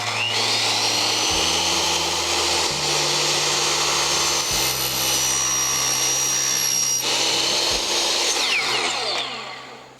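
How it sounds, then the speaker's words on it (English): A power saw cuts through an aluminum WeatherGuard piece, a loud, continuous high-pitched whine with a steady grinding roar running for nearly the whole span, then winding down at the end. "We want to start the saw fully."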